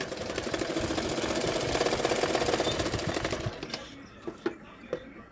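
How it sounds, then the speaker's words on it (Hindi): A sewing machine runs continuously while stitching darts on a double katori blouse, a close, steady rapid mechanical whirr that stops partway, followed by a few sharp clicks and taps. "इसी तरह से जॉइन टू जॉइन मिलाते हुए सिलाई कर लूँगी टेकन के लिए"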